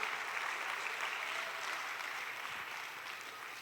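A church congregation applauds during a sermon, producing a steady, moderately faint wash of many hands clapping from the room, with no voices standing out.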